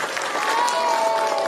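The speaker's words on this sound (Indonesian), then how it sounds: "Tepuk tangan untuk penabuh yang luar biasa." Applause and crowd noise for gamelan players at a Balinese comedy performance, a short, steady wash of clapping with a voice heard over it.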